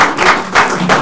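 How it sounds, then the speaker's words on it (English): Workshop audience giving a few loud, close hand claps, three distinct bursts spaced roughly evenly across about a second. "So let us give a clap"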